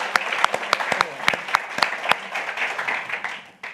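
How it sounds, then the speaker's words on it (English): A conference audience breaks into a round of applause, many hands clapping in a brisk, fairly close burst that thins out toward the end. "can we just do a round of applause?"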